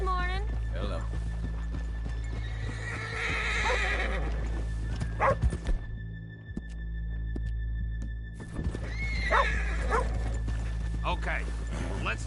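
Horses whinny and hooves clip-clop in a Red Dead Redemption 2 town scene, with a dog yipping and barking amid mixed game sound, while people talk over it.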